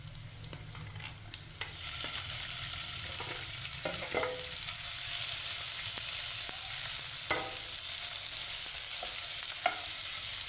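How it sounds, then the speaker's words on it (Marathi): Boiled potatoes stirred into a hot pan for a crispy veg sandwich filling, with a steady sizzle under scattered scraping clicks of a spoon, close and continuous. "आता मिक्स करूया आपण जी बटाटे उकडली होती ती आपण टाकून घेऊया"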